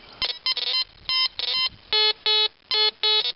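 A metal detector sounds repeated pitched electronic beeps over a zinc target, in several short tone bursts that come faster at first and then settle into a steadier rhythm.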